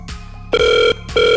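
A Jio mobile caller tune plays as two loud, sustained electronic ringback tones, each lasting about half a second, separated by a short gap, with no talking.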